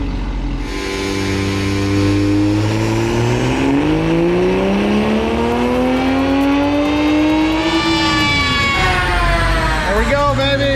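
A car engine on a dyno running race gas revs hard and climbs steadily through a long wide-open pull, loud and close, then drops off and blips again near the end, with voices underneath.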